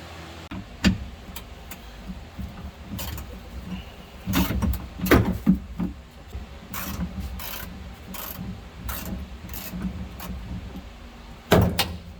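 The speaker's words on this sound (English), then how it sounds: "Let's work on trying to get these side doors disconnected." Side doors being removed from a Polaris Ranger UTV: scattered metallic clicks, ratchet-like clatter, knocks and rattling panels over a low background hum, with a louder clunk near the end.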